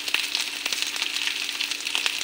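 Onion frying in hot oil as green chilli and garlic go into the pan, a close, steady crackling sizzle with quick popping bursts throughout.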